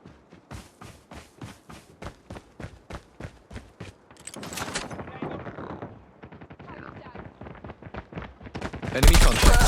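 Rapid gunfire in a ranked frontline shooter game: a steady run of evenly spaced single shots, then denser sustained bursts and a loud burst at the end, with callouts spoken over the action.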